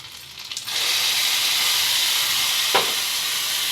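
Spinach tipped into a hot pan with ginger-garlic paste and cumin sets off a loud, steady sizzle that holds for several seconds after a soft start, with one brief clink partway through.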